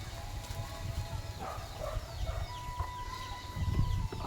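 Chickens cluck and chatter faintly at a distance on an organic farm over a low background rumble, with scattered bird calls throughout.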